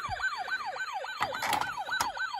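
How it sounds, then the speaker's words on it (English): Toy Robocop ambulance siren wailing in a steady rising-and-falling electronic tone, repeating several cycles close up, with a few clicks and knocks from handling the toy. "Using this siren."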